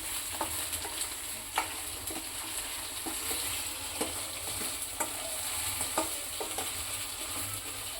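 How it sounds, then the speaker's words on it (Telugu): Crabs fry in a hot pan, giving a steady close sizzle broken by sharp scraping clicks as they are stirred at irregular intervals. No one speaks. "ఇప్పుడైతే మనం పీతలను అయితే యాడ్ చేసుకుందాం. వీటిని కొంచెం ఫ్రై చేద్దాం."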